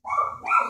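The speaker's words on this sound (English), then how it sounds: "That's my dog." A dog in a mobile game lets out two quick, close barks in succession, sharp and clear with a short gap between them and nothing else around.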